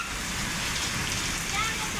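Heavy rain falling in a stormy downpour, a continuous broad hiss and patter close by, steady for two seconds.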